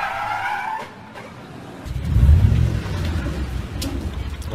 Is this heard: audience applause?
no